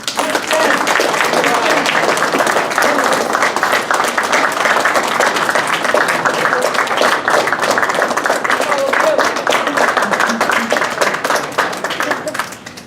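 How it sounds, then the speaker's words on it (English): An audience at an Air Force historical society event claps loudly and steadily for a tech sergeant and a colonel, a dense, continuous burst of many hands with some cheering mixed in, sustained for the whole stretch before tapering at the end. "in a joint clap and hoorah, for the tech sergeant and the colonel"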